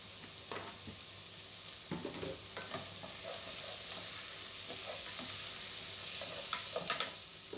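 Capsicum sautéing in a pan with garlic and ginger: a steady broadband sizzle with intermittent clinks and scrapes of a utensil stirring, close and continuous.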